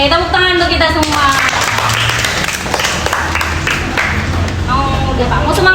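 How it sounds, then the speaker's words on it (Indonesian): Audience applause at an indoor financial-literacy session on choosing credit products, a dense burst of clapping mixed with chatter and cheering, while an amplified voice talks over it at the start and end. "tepuk tangan untuk kita semua"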